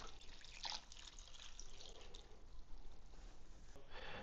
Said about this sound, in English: we're going to throw in 2 cups of beef broth